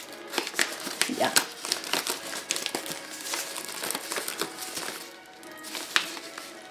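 Plastic packaging crinkles and rustles up close as hands work it open, with a person speaking over the sounds.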